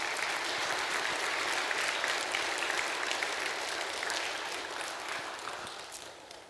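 A church congregation at a revival service claps together in sustained applause, a dense even patter that fades slightly toward the end, with no voices over it.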